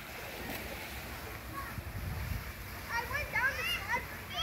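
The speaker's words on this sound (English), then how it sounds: "The water slide." Water splashes on a water slide at a birthday party, soft and continuous under the chatter and shouts of children playing nearby.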